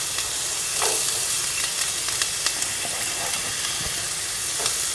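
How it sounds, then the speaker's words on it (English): Chopped onion sizzling in hot olive oil in a pan over medium-high heat, a steady close frying hiss with small crackles throughout, no talking. "So I'm actually going to add in my onion. Ah, got that sizzle."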